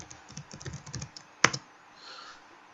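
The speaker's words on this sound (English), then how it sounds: "I'm just going to type in moving" Computer keys are tapped in a quick run of light clicks, then one sharp louder keystroke stands out before a faint hum carries on. The typing is close and heard alone.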